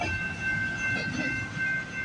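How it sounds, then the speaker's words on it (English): A CPKC freight train accelerates past, a steady rumble of rolling railcars with faint clickety-clack and a high metallic squeal running through it. "Now the train is picking up speed."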